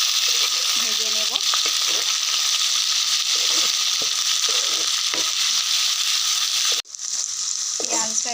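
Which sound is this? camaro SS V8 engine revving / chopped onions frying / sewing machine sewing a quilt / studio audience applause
chopped onions frying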